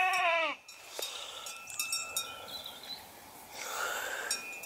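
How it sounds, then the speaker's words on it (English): A goat on a coastal walk near Sand Bay and Middle Hope gives one short, loud, wavering bleat at the start, followed by quieter outdoor rustling and faint background sounds. "He's a real old goat, isn't he?"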